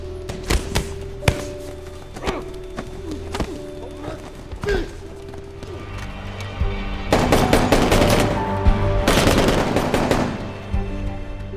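Gunfire from shooting practice in an action film, a volley of sharp, loud shots that turn into dense bursts in the second half, carried over background music with no talk.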